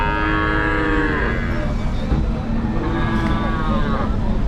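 Several cows and calves moo in turn at a crowded cattle market in Vaniyambadi, with two long, wavering calls rising above a steady background of crowd noise and traffic.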